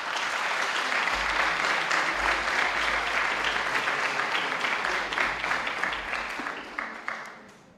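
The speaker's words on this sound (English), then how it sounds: "A big applause for the organizers" Audience applause for the organizers of an art and tourism film festival, a dense, sustained clapping from a crowd that holds steady and then thins out toward the end.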